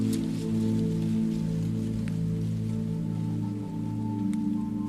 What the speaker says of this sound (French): les premières gouttes de pluie commencent à tomber. C'est une pluie d'été,